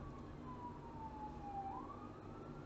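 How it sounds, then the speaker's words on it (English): A faint siren wails in the distance, a single slowly falling and rising tone over a low rumbling background. "Siren."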